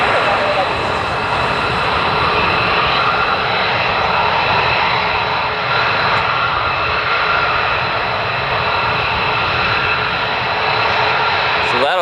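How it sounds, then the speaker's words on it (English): A C-17 military transport aircraft approaching an airport, heard as a steady, loud, broadband engine roar that holds constant throughout, with no clear rise or fade. "We also have the C-17 heading this way."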